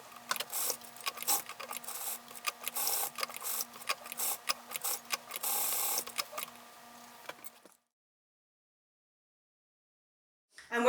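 Sewing machine stitching elastic ends together on a chiffon skirt, bursts of rapid mechanical whirring with short pauses, then stopping into silence before a brief clunk at the end.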